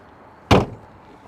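A Mazda FD RX7 car door slams shut once, a sharp, loud thud that dies away quickly against a quiet background.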